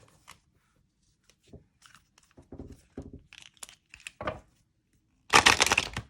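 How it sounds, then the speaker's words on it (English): Quiet crinkles and taps build up, then a loud burst of dense riffling near the end as stiff oracle cards, slightly thicker than normal cardstock, are shuffled close by. "So let's shuffle."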